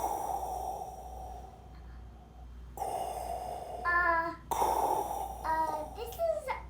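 A voice imitates a sleeping dragon's breathing with slow, breathy sighs and snorting exhales, several rising and falling breaths close up, quiet at first and then louder.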